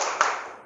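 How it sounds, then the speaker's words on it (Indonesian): Audience at a motivational seminar in a Jakarta polytechnic campus claps hands on cue, a brief burst of applause that rises sharply and then fades over under a second. "tepuk tangan Anda 2 kali"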